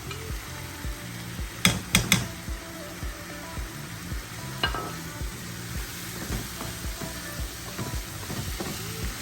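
Masala for chicken palak makhni is stirred and fried in a pan, producing a soft ongoing sizzle broken by a few sharp clinks of a utensil against the metal.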